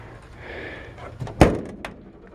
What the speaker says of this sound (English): And the doors do close and lock.